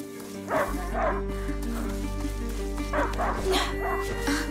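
A hunting dog in the video game A Plague Tale: Innocence gives several short barks and yips at moderate distance over a steady low drone of game music and ambience.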